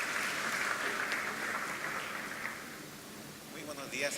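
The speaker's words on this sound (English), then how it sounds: "please give a round of applause for him" An audience at a biotech conference applauds a speaker being introduced, a steady wash of clapping that holds fairly even before tapering slightly and swelling again at the end.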